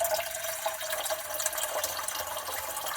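Water pours steadily into a pan at a campsite van stove, a continuous bright hiss and splash that runs throughout at moderate volume.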